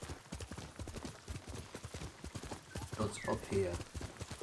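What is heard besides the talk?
horse hooves clip-clopping, from a video game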